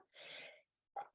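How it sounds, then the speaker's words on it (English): A single person's sneeze, a drawn-out breathy burst followed by a brief pause and a short sharp exhale, close and fairly quiet. "I'm going to sneeze now"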